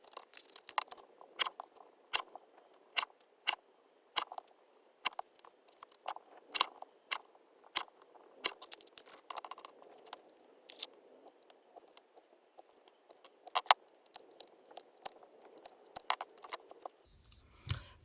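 Scissors cut small paper Christmas tag images from a craft kit, making a long series of close, crisp snips at an uneven pace against a quiet background.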